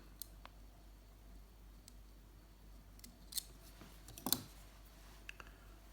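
Small scissors trimming excess material at a fly-tying bench make a few quiet, sharp snips spread across the stretch, the loudest near the end, over a faint room hush.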